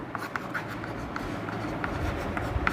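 Marker or chalk strokes on a board during a class 7 mathematics lesson, a series of light, quick scratching taps spread evenly through the clip over a steady room hum.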